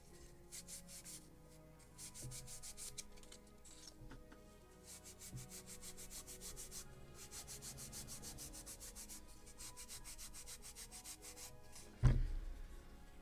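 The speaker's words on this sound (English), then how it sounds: "And polishing with a Scotch-Brite." Soft, steady rubbing of a Scotch-Brite pad polishing the wooden deck of a Model Shipways 1776 gunboat Philadelphia kit, a continuous close scrubbing texture with one brief louder knock near the end.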